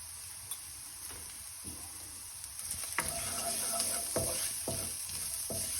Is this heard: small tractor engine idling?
no